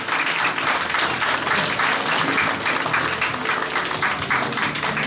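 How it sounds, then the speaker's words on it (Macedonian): An audience at a jubilee exhibition for the Strumica Carnival claps steadily and warmly throughout, a dense continuous applause from a room full of people with no voices standing out. "Еден аплауз за него."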